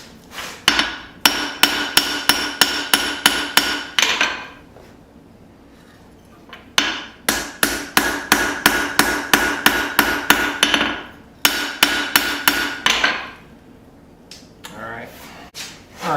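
Hammer blows forging a small knife blade from a bolt, struck in two long runs of steady, ringing metallic strikes with brief pauses between, loud and close, with no talk.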